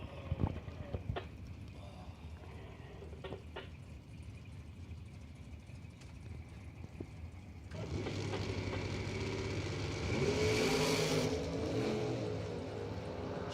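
Drag racing launch at a Friday race event: a '67 Chevelle and a Camaro leave the line, a broad engine roar swelling loud after several seconds of quieter idle and crowd noise, peaking near the end.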